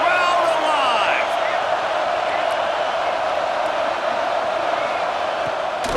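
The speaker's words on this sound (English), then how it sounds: "Man, this crowd really affecting the football game." Loud stadium crowd roaring in EA Sports College Football 26 during a third-down red zone play, a dense, steady wall of noise with whoops rising over it and no pause for the full stretch.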